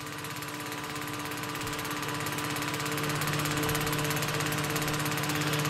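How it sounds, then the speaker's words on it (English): A 6 kilowatt diesel petrol separation machine for wrong-fuel rescue runs continuously, a loud steady mechanical hum and buzz with a dense, even drone that swells slightly toward the end. "Just would like to show you another diesel petrol separation machine. It's a 6 kilowatt unit."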